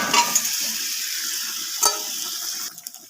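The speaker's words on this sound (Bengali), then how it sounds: "ঝোলটা খুব সুন্দরভাবে ফুটে গেছে। এবার মাছগুলো দিয়ে দিচ্ছি।" Fish pieces slipped into a simmering Bengali fish curry (macher jhal), a wet bubbling sizzle with a couple of splashy plops as pieces go in, loud and close, then quieter clinks as it settles.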